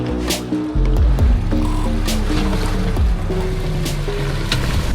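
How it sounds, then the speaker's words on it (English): An off-road vehicle churns through a water crossing on an iconic trail, with loud sloshing and splashing over a steady low engine rumble, close and continuous. "For us, it was just fun to drive through a little bit of water."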